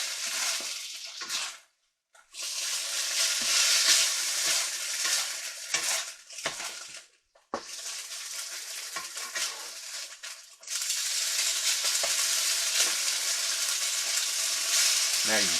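Cubed pork frying in a pan with garlic powder and onion powder, a loud steady sizzle with brief pauses and stirring scrapes, close up, with occasional speech.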